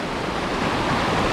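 The Dumaka River runs high after heavy water, a loud, continuous rushing roar of flowing water close by, with no voices.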